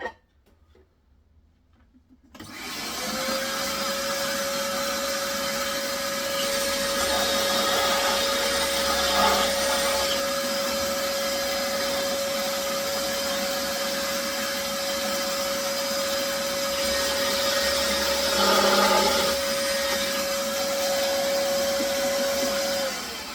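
A power tool cuts holes in wood for a nest box, a loud, steady motor whine that starts abruptly after a brief quiet moment and holds for about twenty seconds with small surges under load, with no speech.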